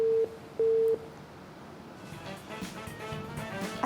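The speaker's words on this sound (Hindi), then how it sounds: "अच्छा जी, कॉल ड्रॉप हो गई" Busy tone from a dropped caller line on a live Pakistani TV fashion show: two steady beeps near the start, the second longer, then a low studio murmur continues alone.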